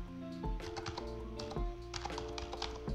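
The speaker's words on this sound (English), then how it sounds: "we're going to open our Windows terminal and we're going to type" Rapid typing on a computer keyboard while entering a command into the Windows terminal on a Windows 11 PC, a steady run of close, crisp key clicks and taps with a few heavier keystrokes, no voices.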